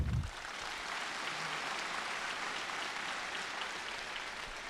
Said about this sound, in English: Give this panel a round of applause